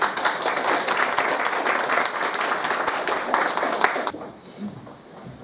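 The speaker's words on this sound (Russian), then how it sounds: "Под ваши бурные аплодисменты." Audience applause at a music festival, steady dense clapping from a crowd in a hall for several seconds before tapering off near the end.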